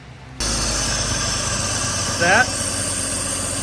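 A damaged salvage car's engine kicks on abruptly and settles into a steady, rumbling idle, with a brief squeal partway through; exhaust escapes from the thermostat.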